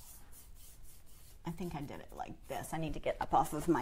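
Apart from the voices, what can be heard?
brush rubbing over painted furniture to distress it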